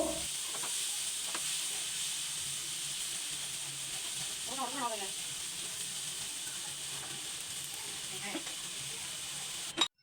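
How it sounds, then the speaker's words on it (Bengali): Spice paste for egg curry frying in a pan after a splash of water, a steady soft sizzle and hiss running throughout, with occasional stirring scrapes and a brief clatter at the end. "জল দিয়ে মশলাটা আবার ভালোভাবে কষিয়ে নিব"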